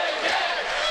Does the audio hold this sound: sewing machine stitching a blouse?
no